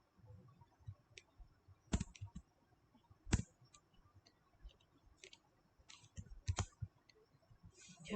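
Code being typed on a computer keyboard, with soft scattered key clicks and a few sharper louder taps in an irregular rhythm, close and quiet with no talking.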